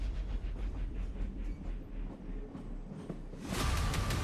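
A moving train heading toward a bridge gives a steady low rumble with rolling rail noise, then a louder rushing whoosh swells near the end.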